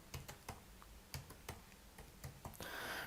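Keys tapped on a computer keyboard while entering a search term, a quick uneven run of sharp clicks with short pauses, close and fairly quiet, ending in a brief broadband rush.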